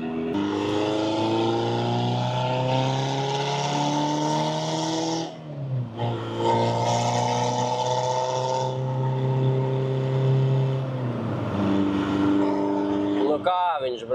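A car fitted with a rebuilt 1.9 TDI diesel engine drives along, its engine droning and rising through the gears, with a brief drop around a shift, heard from inside over a constant hum while people talk.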